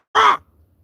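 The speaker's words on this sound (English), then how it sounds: "You hear that crow?" A single loud, close crow caw, one harsh nasal call lasting under a quarter second and followed by near silence.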